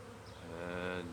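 Honey bees hum around an opened hive during an inspection, a steady close buzz that swells slightly louder toward the end.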